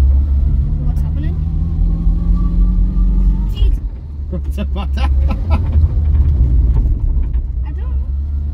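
A Vauxhall Viva's gearbox whines while driving, a rising tonal whine over low engine and road rumble, with people talking over it inside the car.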